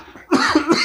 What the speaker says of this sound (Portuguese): Desculpem a tosse aí aqui, mas tô melhorando